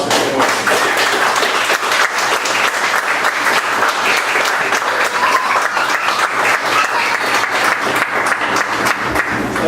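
Loud, sustained applause from a crowd welcoming a speaker to the stage at a talk on offensive humor, dense clapping with a few sharper individual claps standing out, no talking.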